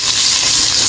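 Garlic hitting hot frying oil, a loud, bright, steady sizzle that fills the whole moment with no voices over it.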